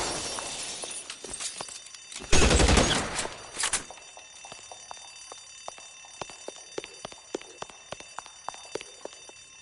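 Gunfire in the video game L.A. Noire: a dense, loud burst of shots with a crash, then a long run of scattered, sharper single shots and debris clatter fading into the background.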